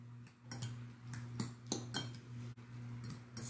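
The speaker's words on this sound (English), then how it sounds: "And we give it a whirl, we give it a stir" Spoon clinking against a bowl while black pepper is stirred into bruschetta topping, a series of light, close metallic taps and scrapes at an uneven rhythm over a steady low hum.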